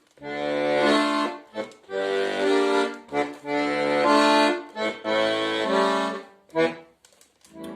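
Sustained reedy bayan accordion chords swell and fade in several long phrases, separated by brief breathy gaps, played close and fairly loud with no voices.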